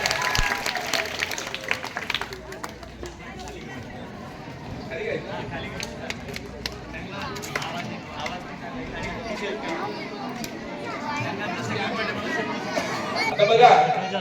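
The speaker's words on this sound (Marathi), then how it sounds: "तर चला जोरदार टाळ्या वाजवूया आपण आणि पुढे लावूया" Applause from a school audience at a National Science Day celebration in a Zilla Parishad school, steady broadband clapping mixed with crowd chatter and a speaking voice, swelling slightly near the end.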